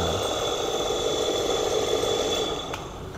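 A serviced National water pump motor runs on a test bench, a steady mid-pitched motor hum with a faint rattle and high whine, easing slightly near the end.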